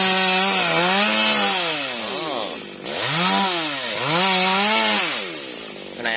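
A chainsaw cuts into a large golden wattle acacia tree outdoors, its engine revving up and bogging down in repeated swells as the chain bites through the wood, loud and close.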